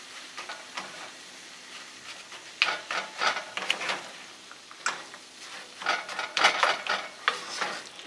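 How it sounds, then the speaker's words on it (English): A spoon scrapes and stirs sweet puran poli filling in a pot over a slow flame, with irregular scraping strokes that come closer and louder in bursts and no talking. "That's why you have to keep stirring it."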